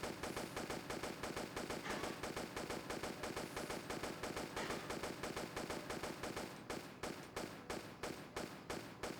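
Sustained rapid automatic gunfire in Tomb Raider Chronicles Remastered, a steady dense stream of shots running the whole time, loud and close, with no talk.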